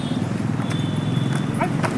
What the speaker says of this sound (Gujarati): સરસ મજાનો રમત કરી શકે એવો ઘોડો છે.